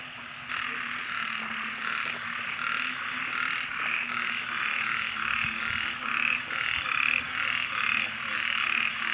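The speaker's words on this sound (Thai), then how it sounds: "เสียงกบเสียงเขียดร้อง เป็นธรรมชาติของเขาถ้ามีน้ำฝนลงมา" A dense chorus of frogs croaking continuously after rain at a Buddhist site, rapid pulsing calls overlapping steadily throughout, fairly close and loud with no voices.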